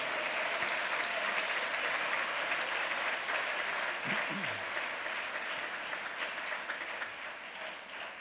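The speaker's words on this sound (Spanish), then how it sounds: "Un aplauso para nuestro Dios." Church congregation giving applause to God during a Spanish-language service, a long, steady roar of many hands clapping, a brief voice rising once partway through before the clapping slowly thins.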